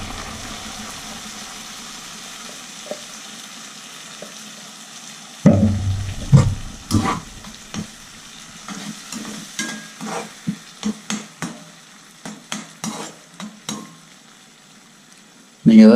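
Onions and ground tomato frying in a pan for pasta, a soft low sizzle at first, then a louder burst as the tomato goes in, followed by repeated spoon scrapes and stirring knocks over continued frying.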